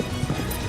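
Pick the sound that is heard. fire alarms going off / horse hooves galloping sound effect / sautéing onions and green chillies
horse hooves galloping sound effect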